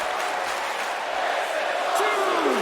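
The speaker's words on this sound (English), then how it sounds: "This is awesome indeed, chanted by the crowd here in Charlotte." A video game arena crowd in a WWE2K wrestling match keeps up a steady, loud roar of chanting and cheering that fills the whole stretch, with no break.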